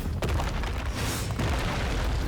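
Heavy booming blast from a special attack in the Bleach: Brave Souls video game, the move Zanko no Tachi Tenchi Kaijin, rumbling loudly and continuously for a couple of seconds with a dense, crackling low-end roar.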